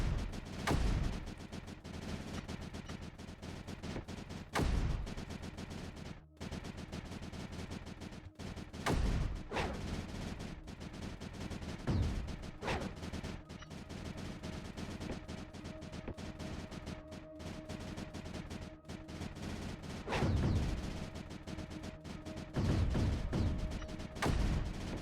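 Cannons in the strategy video game Creeper World 4 fire on a creeper source, giving irregular booming volleys spaced several seconds apart over a constant gritty game background.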